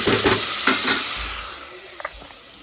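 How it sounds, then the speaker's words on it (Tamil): Ingredients sauté in a pan for kuzhambu curry, a close steady sizzle with a few quick stirring scrapes at the start and light taps later, fading slightly toward the end. "இது நல்லா வதங்கட்டும்"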